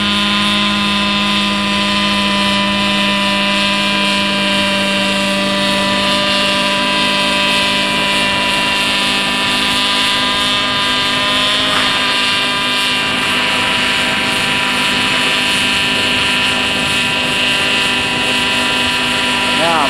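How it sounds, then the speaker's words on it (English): A steady, high-pitched rotor whine from a DJI drone hums continuously, holding level at close range throughout with a faint shift partway, as it hovers nearby. "There goes the helicopter, going back home."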